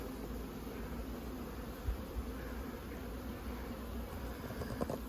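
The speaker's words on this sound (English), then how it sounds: "the bees are already working these 3 frames" Honey bees buzz steadily over the frames of an opened nuc hive, a dense, continuous hum close by that holds at an even level with small swells throughout.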